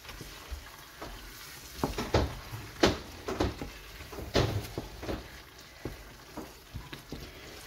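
A mixture being stirred and fried in a pan for a taro dish with hilsa fish head, quiet irregular scrapes and knocks of a spatula over a faint close sizzle, with no voices.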